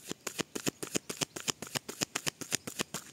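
A tarot card deck is shuffled close up in quick, regular riffling bursts, about a dozen crisp flutters in a row, quiet and without voices.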